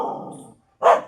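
A dog gives two close barks: a longer, rough first bark, a short pause, then a sharper, louder second bark.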